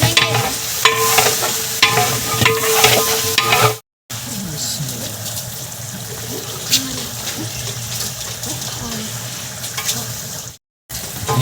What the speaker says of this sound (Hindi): ऐड करेंगे टमाटर, ऐड करेंगे। अब इसको मिक्स करेंगे।